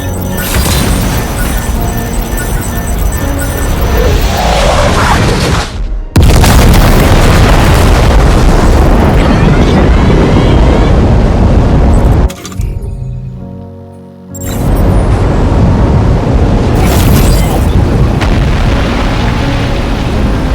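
Cannon fire in the video game Death Stranding 2: loud, heavy booms and crashing blasts that fill the scene, broken by two short near-silent gaps, with little talk.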